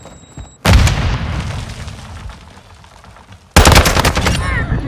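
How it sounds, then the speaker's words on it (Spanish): Semtex grenade explosion and heavy gunfire in Call of Duty MW2, with loud bursts of shots and booms that cut in abruptly, ease off, then surge again near the end. "¡Lanzo Sentex!"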